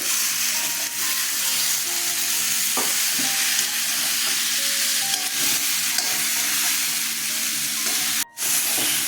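Chunks of elephant foot yam sizzle and spit in a hot pan for a vegetarian dish with green chillies and mustard paste, a constant frying hiss broken by occasional stirring knocks and scrapes.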